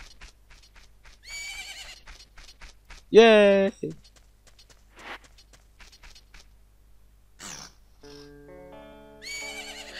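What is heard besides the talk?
horse neighing in a video game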